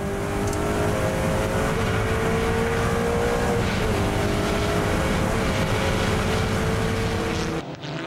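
Near-production race car in the Nürburgring 24-hour race at the Fuchsröhre, a loud sustained engine roar with a steady tonal whine that holds for several seconds before cutting off abruptly.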